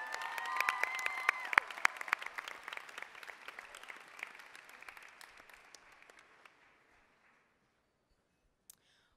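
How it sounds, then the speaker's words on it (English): Applause from the audience at a DCON 2014 closing ceremony starts full and crowded with some cheering, then thins to scattered claps and fades out, leaving near silence and one last clap. "Please join me with another round of applause"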